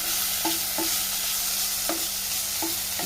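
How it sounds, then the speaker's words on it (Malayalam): Onion and tomato sautéing in a pan for a cauliflower curry, under a soft continuous sizzle and a regular rhythm of spatula scrapes and taps as the mix is stirred. "തക്കാളിയും ഒന്ന് സോഫ്റ്റായി വരട്ടെ അതുവരെ നമുക്ക് വഴറ്റിയെടുക്കാം"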